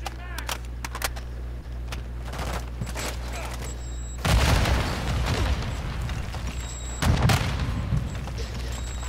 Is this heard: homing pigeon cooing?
no